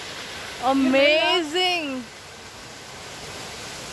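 A waterfall in the rainy hills of Mahabaleshwar sends up a steady, broad rushing roar, with a voice briefly exclaiming over it.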